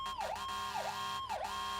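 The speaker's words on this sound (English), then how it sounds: "Alright, now we'll hit that siren." A fire truck siren in the firefighting video game Into The Flames wails in repeated falling-and-rising sweeps, three cycles in under two seconds, loud and close with no talking over it.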